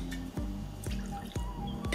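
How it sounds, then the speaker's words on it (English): Gin and aquavit poured in small measures into a glass for a cocktail: a trickling liquid stream with several light drips and splashes, close and fairly quiet. "I'm gonna start, I think, with maybe 15 mils of the gin and about 10 mils of the aquavit"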